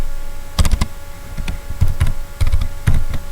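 Keystrokes on a computer keyboard while a word is typed into a text box in a document, a few quick clusters of close, crisp clicks with short pauses between bursts, no talking.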